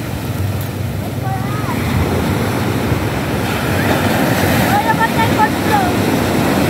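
Strong sea current and waves surge against a pier at Damortis, La Union, in a loud, steady rushing wash with no letup, while faint voices sit in the background.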